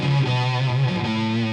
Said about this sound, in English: If your action's high and you pick a note, so say I'll put a bit of distortion on this.